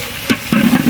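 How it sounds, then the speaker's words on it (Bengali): Five kilos of beef being stir-fried in a large pot for an iftar meal, with a steady sizzle and a few close, quick stirring scrapes. "এখন মূলত এখানে বিফ কষানো হচ্ছে, কষানো প্রায় শেষের দিকে।"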